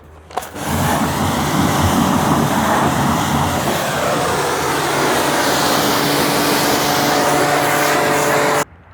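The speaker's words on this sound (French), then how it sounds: "on va rincer la voiture entièrement." A car being rinsed with water, a steady broadband spray hiss that starts abruptly, holds for about eight seconds and cuts off sharply. The sound is close and fairly loud.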